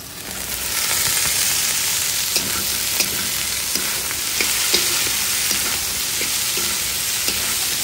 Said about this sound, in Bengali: এটা একটু ভালো করে ভেজে নেব।